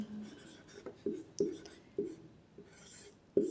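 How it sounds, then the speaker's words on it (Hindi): Pen or marker writing out an example sentence on a board or page during a grammar lesson, faint scratchy strokes with several short taps and stroke onsets, close and quiet with no talking. "सपोज मैं एग्जाम्पल लिखती हूँ"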